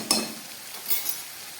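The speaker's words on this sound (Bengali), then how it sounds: "আলু, ঝিঙে আর ডাঁটা খুব ভালো করে ভেজে দিলাম।" Potatoes, ridge gourd and stems fried with turmeric in a pan: a faint, brief sizzle with a couple of quiet stirring scrapes and a light clink, and no talk.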